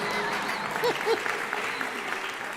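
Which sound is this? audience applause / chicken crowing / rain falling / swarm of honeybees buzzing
audience applause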